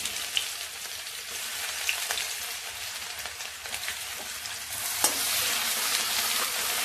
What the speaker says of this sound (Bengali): এখন কড়াইতে আমি যে তেলটা পকোড়াগুলো ভেজেছিলাম সেই তেলটাই ইউজ করছি। প্রথমেই দিয়ে দেবো রসুন আর আদা যেটা থেতো করে রেখেছিলাম